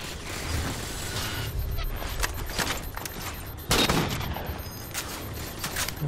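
Dense gunfire from the video game Halo 4, rapid overlapping bursts and shots layered with mechanical clanks, loud and continuous throughout with a sharp crack near the middle.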